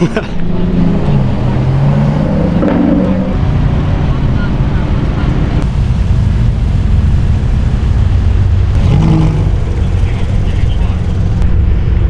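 Race cars heading out onto a circuit, a loud continuous engine roar near the track with people talking over it.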